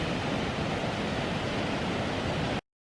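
Sambuyeon waterfall in Cheorwen, carved from granite by the Yonghwacheon stream, pours with a steady, loud broadband roar that cuts off abruptly at the end.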